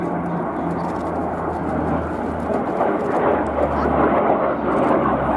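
Military jet flying slowly overhead at an air show, a loud continuous deep roar rumbling steadily throughout and swelling slightly near the end.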